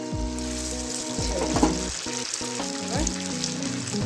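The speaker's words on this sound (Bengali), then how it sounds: "আমি হালকা করে তুলে গরম তেলের মধ্যে আস্তে করে" Naan puri dough is gently lowered into hot oil and fries with a soft hiss and bubbling, heard beneath prominent tonal background music for a few seconds.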